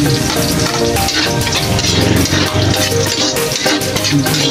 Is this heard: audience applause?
no